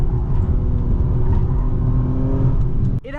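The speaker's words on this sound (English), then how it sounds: "So let's test out that super handling all-wheel drive around some corners and see how much grip we can get." A 2024 Acura TLX Type S with all-wheel drive cornering, its engine holding a loud, steady drone with low rumble, then cutting off sharply near the end; no talking.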